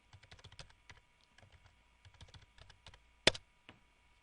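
Keystrokes on a computer keyboard entering a search term into a CRM database field, a quick run of close clicks followed by scattered taps and one sharper key strike, with no talking.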